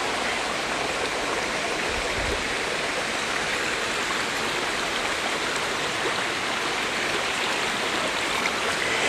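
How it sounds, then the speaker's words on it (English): Morgan Brook in Connecticut flows in a steady, dense rush of water, continuous and fairly loud with no pauses. "This is the Morgan Brook, and it's located in the state of Connecticut."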